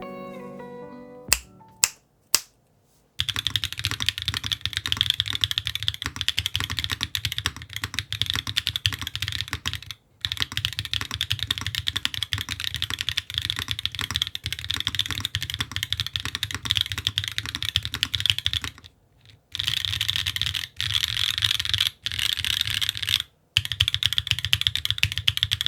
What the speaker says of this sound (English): The sound with the Obscura linears and the carbon fiber plate was extremely clacky